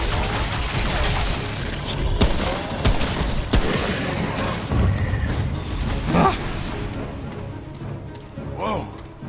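Long rifle gunfire in Remnant: From the Ashes, heard as scattered sharp cracks and booms over a dense, rumbling battle din, with some faint vocal sounds mixed in.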